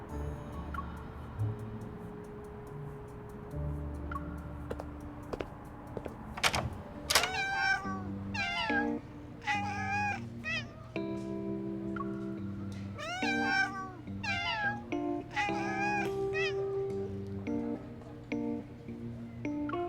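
Cats meowing repeatedly in a cat cafe in the game Love and Deepspace, a series of clear, close meows in irregular succession over soft ambient background.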